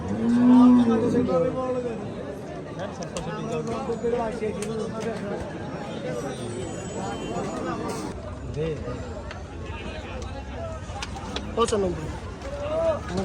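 Cattle low now and then amid a busy crowd of people talking and moving around at an outdoor cattle market in Hazratpur, with constant background noise.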